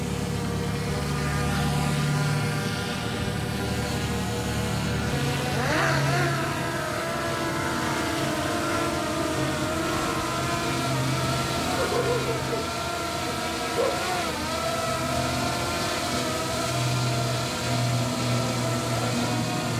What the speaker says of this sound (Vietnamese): hai con flycam Fimi Mini 3 và DJI Mini 3 mình cùng bay